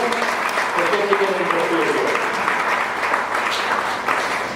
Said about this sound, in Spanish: Tiene una ofrenda de palmas al Señor